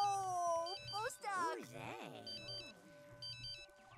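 A phone in The Sims 3 game rings in repeated electronic bursts, clear and close, while a voice talks over it.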